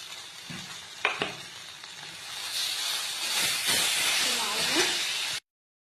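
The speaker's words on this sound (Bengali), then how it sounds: "একটু ঝেপে ঝেপে আমি ফ্রাইটা করবো ভিন্ডিটা" Okra frying in a pan for bhindi sorshe, with a hissing, steamy sizzle that swells midway, a couple of sharp clatters early on and a faint voice in the background.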